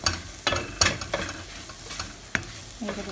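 A spoon scrapes and stirs prawn curry with garam masala in a pan, giving a series of distinct clattering strokes over a soft frying sizzle, close and without talk.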